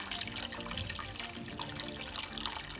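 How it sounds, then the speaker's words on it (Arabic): Water poured into a bucket while making a 5-litre batch of pumpkin raib, a steady splashing, gurgling stream that runs continuously at close range with no talking. "انا ديجا راني كبيت الماء، دابا غادي نزيد مازال"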